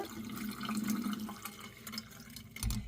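Water swishes and splashes in a bowl as horse gram is rinsed by hand, close and continuous, ending with a louder slosh.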